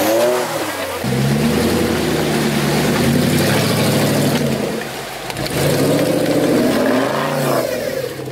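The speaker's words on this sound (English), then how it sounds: "How come you're revving so much?" An off-road car revs hard while stuck in mud, likely a UAZ, Lada Niva or Jeep Wrangler Rubicon. The loud, close engine climbs and falls in two long surges with a short dip between them.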